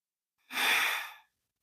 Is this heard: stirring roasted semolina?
no